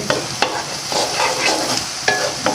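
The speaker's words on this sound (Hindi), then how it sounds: "ऐसे आपने अच्छी तरह इसको फ्राई कर लेना, भून लेना पहले" Spicy kaleji masala with garlic and green chilies sizzles in a hot pan, with a steady frying hiss punctuated by sharp scraping stir strokes every half second or so.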